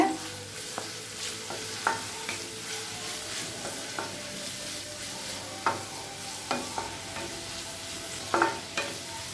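Cabbage, capsicum and other vegetables stir-fried on high flame for veg noodles: a steady sizzle with repeated scraping and clanking strokes of a spatula against the pan, close and loud, with no voices.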